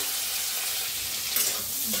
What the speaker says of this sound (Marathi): आता कांदा आणि कढीपत्ता टाकलाय बघा, त्याला बी आपण छान भाजून घेऊया।